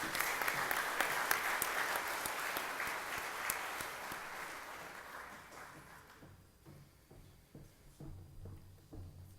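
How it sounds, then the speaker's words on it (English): An FFA banquet crowd applauds a poultry judging team, a full steady round of clapping that fades after about six seconds into a few scattered claps and light room shuffling. "Let's give these men a round of applause."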